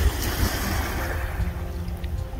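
A sailboat moves past Simpson's Bay on St. Martin at about 3.5 to 4 knots, carrying a steady rush of wind and water with low rumbling wave wash, close and continuous, with no voices.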